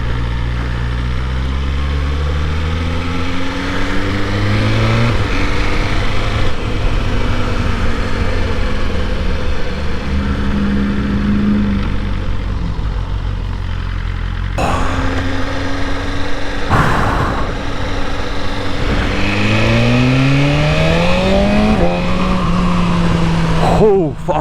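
BMW S1000RR motorcycle engine warming up in cold weather: a steady close idle rumble with rising and falling rev sweeps, sharper revving bursts toward the end, and voices talking over it throughout.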